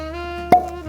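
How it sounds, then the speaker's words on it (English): A single sharp cork pop as a fresh High West bourbon bottle is opened, loud and close, over a steady low hum. "Now for the bottle pop. Little test here, cork pop."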